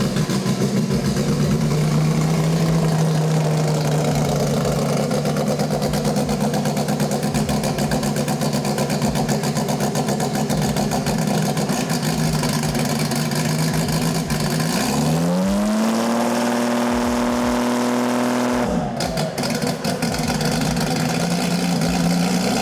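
A 2700+ HP drag car engine in burnout mode with line lock, idling loud and rough for a long stretch, then swelling into a sustained high rev before dropping back to a ragged idle.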